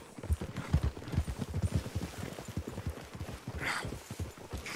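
Horse hooves clip-clopping in Red Dead Redemption 2, a rapid irregular run of close, moderately loud hoofbeats with a brief snort or whinny partway through.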